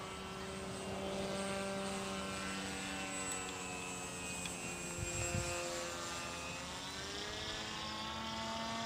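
Peace Drone model airplane gliding overhead with the throttle off, a steady airy propeller whir and wind rush holding across the whole stretch with slowly shifting pitch and a brief low thump midway.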